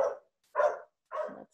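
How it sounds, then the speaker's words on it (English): Three short dog barks in a row, spaced about half a second apart, moderately loud and close by, with no talk over them. "Sorry for the dogs."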